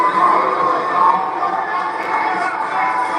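A wrestling crowd packs the sold-out Hammerstein Ballroom, producing a steady, loud wash of shouting and cheering that holds without a break, with indistinct voices mixed through it.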